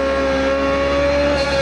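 Open-wheel race car engine in the iRacing sim, a loud sustained high-pitched whine held at near-constant revs, close and alone with no talk.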